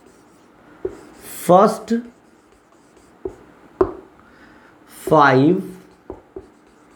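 Pen or chalk writing strokes during a Navodaya entrance-exam maths class, scratchy bursts recurring between short taps, with a teacher speaking over them.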